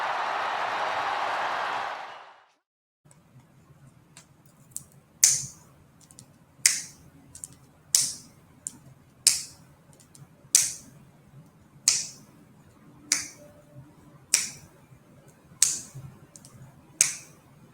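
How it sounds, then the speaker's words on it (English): Finger snaps, eleven sharp, evenly spaced clicks roughly one and a half seconds apart, close and crisp against near silence, following a brief burst of noise at the start. "In the time it took for me to snap my fingers 10 times"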